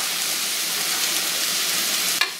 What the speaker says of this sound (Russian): надо помешать макарошки